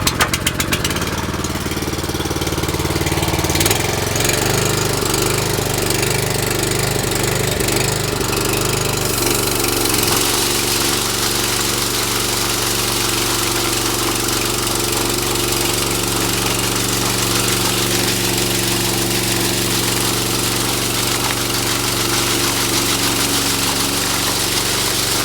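The engine of a high-speed concrete machine running at low throttle outdoors, a loud, rough, steady mid-pitched drone that shifts in tone during the first ten seconds and then holds constant, with no voices.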